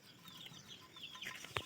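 A rooster readied for a puja sacrifice gives soft, low clucks and short murmuring calls, faint and close, ending in a sharper squawk.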